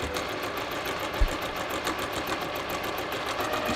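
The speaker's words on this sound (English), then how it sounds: "standard 1/4 inch seam, just sew that down." A sewing machine runs steadily, stitching a standard quarter-inch seam on fabric, its rapid even needle rhythm close and continuous throughout.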